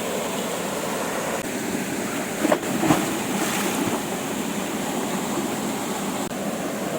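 Heavy, steady rush of water at Saleli waterfall in Goa, a broad continuous roar with no talk.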